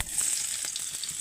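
Mustard seeds and small shallots frying in hot oil for a rasam, a dense, steady sizzle with fine crackles over a short stretch, close and fairly loud.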